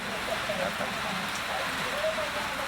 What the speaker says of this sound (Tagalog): Maulan ngayon. It's raining Sunday.